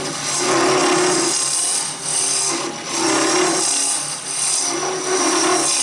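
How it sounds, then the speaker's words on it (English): Steady scraping hiss of a gouge taking a peeling cut on spinning wood on a lathe, shaping a small Christmas tree, loud and continuous with slight periodic swells and a brief dip midway, alone. "So this is a peeling cut."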